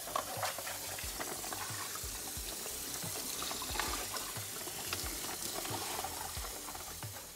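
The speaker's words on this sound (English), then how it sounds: "We're just gonna do a quick rinse down on this, so it's not all murky." Water splashes and runs while aquarium sand or gravel is rinsed, a continuous soft sloshing with small irregular knocks, quiet and close, with no talking.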